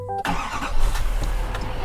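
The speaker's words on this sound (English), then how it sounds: "for a diesel engine, it's relatively quiet. I'll show you. Let me start it up." A diesel truck engine cranks briefly after a short tone, then catches and settles into a low, fairly quiet rumbling idle with slight fluctuation.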